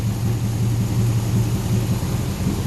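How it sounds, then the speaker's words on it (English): A homemade V8 racecar engine idles roughly with a nasty misfire, a loud, close, lumpy low rumble with an uneven pulsing beat and no voices. "It sounds like it's got a nasty misfire."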